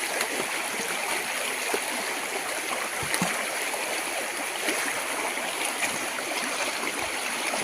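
A small hill stream rushes steadily down from the slopes in a dense, even wash of flowing water, close and unbroken, with no voices over it.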